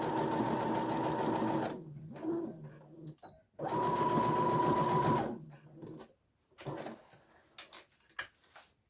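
A sewing machine stitching a tote bag seam runs in two close, steady bursts of rapid whirring, each about two seconds long, followed by softer handling clicks and knocks.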